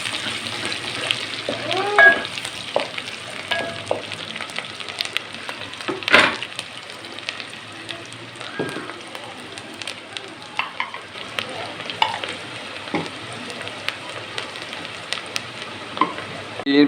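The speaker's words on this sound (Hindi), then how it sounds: "प्याज को हमने लाइट फ्राई करना है।" Finely chopped onion lightly frying in a pan with spices, a continuous soft sizzle with occasional stirring scrapes and clinks, close by and steady throughout.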